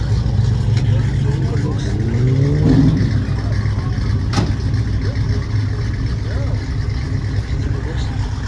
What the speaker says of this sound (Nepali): गाडीहरू अब निकाल्दै हुनुहुन्छ